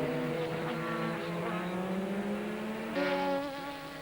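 A GT race car from the 2000 FIA GT championship screams past on track, a loud high-revving engine note shifting in pitch as it goes by, with another car's engine blending in.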